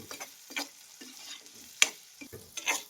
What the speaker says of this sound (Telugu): మన ఉల్లిపాయలు పచ్చిమిరకాయలు ఆకాకరకాయలు చక్కగా అయితే మగ్గుతున్నాయండి